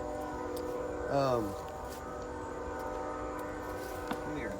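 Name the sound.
train passing through the countryside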